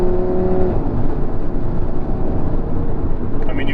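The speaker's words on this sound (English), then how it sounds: "I think a 5-cylinder will always sound the way it does" Audi RS3 facelift (8V2) five-cylinder engine revs loudly and steadily up close, a dense continuous growl with a tonal whine early on, alone without talk.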